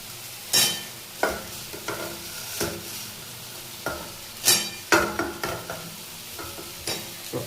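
Potatoes stirred into a sizzling spice masala for a Bengali potol kosha, with a soft frying hiss under repeated scraping and clanking strokes of a spoon against the pan.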